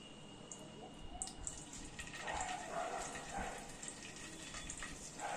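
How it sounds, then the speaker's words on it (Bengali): Paneer cubes sizzle and crackle as they fry in a pan for a masala dish, a steady bed of hissing oil with scattered sharp pops and spits, close and fairly quiet, no voices. "এবার পনিরগুলোকে ভেজে নেব।"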